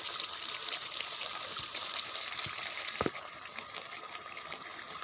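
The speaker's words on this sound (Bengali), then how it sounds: "এতে এবার জল দিয়ে দেব" Water pours into a pot of cooked-down duck curry with potatoes, a steady soft rushing hiss broken by a single knock midway, after which the flow grows quieter; no voices.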